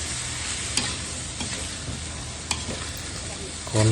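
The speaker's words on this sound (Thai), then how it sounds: "คนให้เข้ากัน" Yellow noodles being stirred in a pan with onions and carrots, a steady sizzle of frying underneath with a few soft scrapes and knocks of the utensil against the pan.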